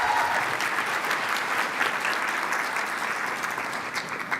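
Audience applause at a software product keynote, a dense, sustained burst of clapping that fills the whole stretch and tapers slightly toward the end, with no talk over it.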